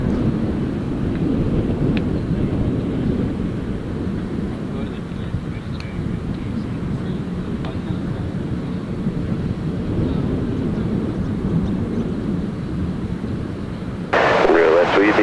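Roulettes aerobatic team planes leaving Gold Coast Airport produce a continuous low engine rumble mixed with wind buffeting the microphone, steady throughout, with a brief burst of other noise near the end.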